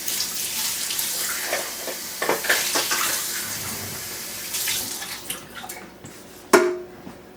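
A measuring cup being rinsed under a running kitchen tap while baking bread, with steady splashing water throughout and a sharp clink of the cup near the end.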